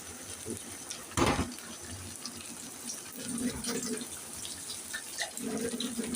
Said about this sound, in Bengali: একটু পানি দিয়ে দিচ্ছি